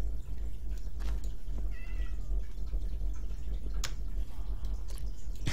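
Short, close meows from a cat in Minecraft, a tamed village cat being fed salmon, rising over a steady background hum with no talking.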